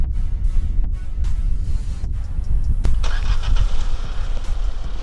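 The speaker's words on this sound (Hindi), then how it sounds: "गाड़ी स्टार्ट हो गई रिमोटली, हम देख सकते हैं।" A Kia Sonet turbo-petrol engine, started remotely, turns over and catches, then settles into a steady low idle rumble with some clicks and a brief higher whir.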